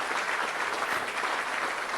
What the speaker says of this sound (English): why are you applauding that?